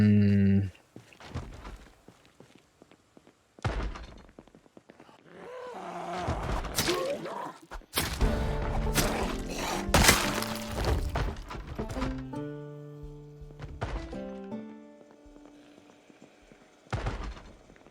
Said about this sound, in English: It's two guys in that room, banging on that door